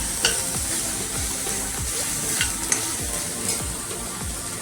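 Garlic roasting in a pan for a Marathi garlic-fenugreek bhaji, with a steady close sizzle and frequent scraping stirs from a spatula, repeated dull knocks against the pan throughout, no voices.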